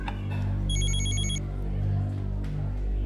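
A phone in a TV drama scene rings with a short electronic trill, a bright burst of rapid repeated beeps layered over a heavy, droning music bed with no speech.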